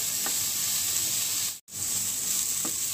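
Chopped onions fry in a pan until golden, producing a bright, steady sizzling hiss with a couple of faint clicks, briefly cut by a short dropout midway, then resuming at the same level.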